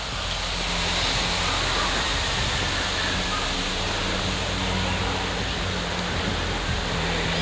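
Water rushing out at the outlet of the park's lake in Caxambu, Minas Gerais, gives a steady, full roar, loud and near and unbroken, with faint low tones beneath.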